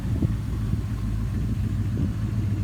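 A 1978 Dodge Charger R/T with a modified engine idles with a deep, low rumble, close and steady, with a slightly lumpy pulse.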